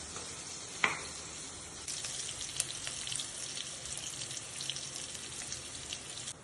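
Spices with asafoetida and turmeric sizzling quietly in a pan for lemon rice, a soft steady crackle with a sharp clink near the start and faint stirring scrapes throughout.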